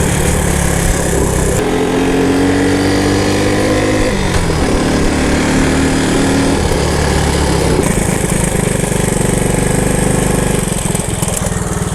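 An old abandoned Honda three-wheeler engine runs loud and close after being brought back to life, a steady buzzing small-engine drone with shifts in pitch as it revs and settles, no talking over it.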